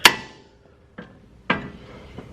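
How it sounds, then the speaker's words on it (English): A hammer strikes a pickle fork wedged into a tie rod end on a car's steering linkage: three sharp metallic clangs spaced about half a second to a second apart, each ringing briefly, with a fainter fourth tap at the end. "drive this pickle fork as far in as we can hammer it"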